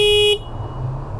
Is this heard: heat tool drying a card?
no